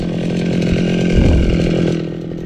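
A petrol grass cutter runs steadily close by while grass is trimmed during preparations for a birthday, its engine drone holding even and loud with a slight surge midway and no talk over it.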